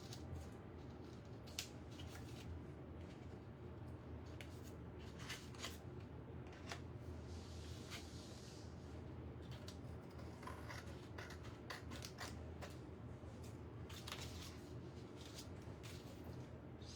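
Scissors trim paper on a faux vintage Valentine chocolate box craft, giving soft, quiet snips and clicks that repeat irregularly over a faint steady background hum.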